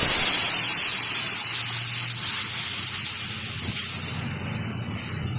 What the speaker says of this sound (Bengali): ফোড়নটা ভালোভাবে ভাজা হয়ে গেছে, দিয়ে দিচ্ছি সিদ্ধ করে রাখা ডাল।